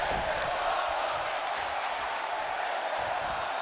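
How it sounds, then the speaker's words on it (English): A wrestling event crowd roars and cheers in a continuous, loud mass of voices, a broad sustained wash of shouting with no break. "Listen to the crowd on that."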